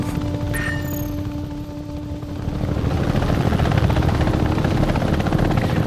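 Rotor thump of an Apache attack helicopter in the game Apache Air Assault, a dense, steady beating roar that grows louder midway and continues without voices.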